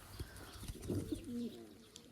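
Soft, low pigeon cooing in a quiet setting, a brief murmuring call with faint background noise.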